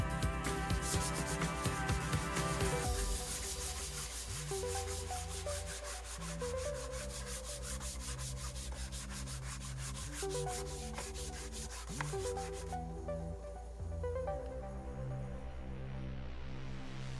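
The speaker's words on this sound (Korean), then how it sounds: "부드러운 사포로 다시 한번 갈아줍니다." Steady rubbing of fine sandpaper over a painted wooden cabinet door between coats, a continuous scratchy hiss that runs the whole time at an even, close-up level.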